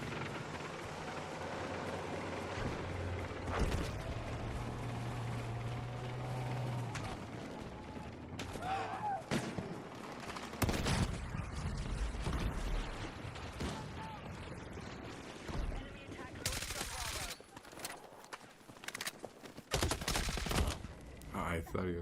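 Gunfire from a VSSM rifle in Battlefield 6, heard as scattered sharp cracks and mechanical clatter over dense game noise, with shots clustered mid-way and toward the end.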